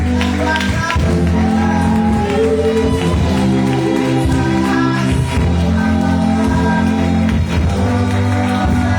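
A church congregation at a Sunday service acclaims and cheers the Lord, with loud sustained music, tapping and clapping, and crowd voices blended into one continuous wall of sound.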